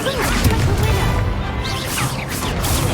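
The Incendio fire spell goes off in Hogwarts Legacy with a whooshing burst and crackling impact amid layered game effects, while a voice calls out over it.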